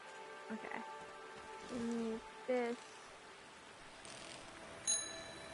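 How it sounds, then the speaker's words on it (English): A bicycle bell rings in the video game Season: A Letter To The Future, a few bright metallic dings in quick pairs over faint ambient game sound, with a voice talking nearby. "Oh, I can ring his bell."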